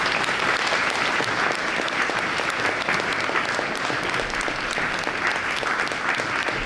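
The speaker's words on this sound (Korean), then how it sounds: "다시 한번 큰 박수 부탁드리겠습니다" Loud, sustained applause from an audience at an honorary doctorate ceremony in art history at a Korean university, a thick, continuous wash of many hands clapping close by with no letup.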